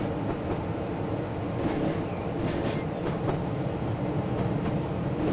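A Class 33 diesel locomotive in the Train Simulator video game runs steadily with a constant engine drone and a rhythmic clickety-clack of wheels over rail joints, moderately loud and without talk.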